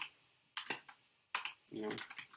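Bursts of typing on a computer keyboard, several quick clusters of clicking keystrokes separated by pauses, close and fairly quiet, with a brief murmur of voice near the end.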